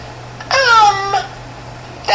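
An indoor cat gives a single drawn-out meow lasting under a second, clear and close with a falling pitch, over a steady low hum, before the room goes quiet.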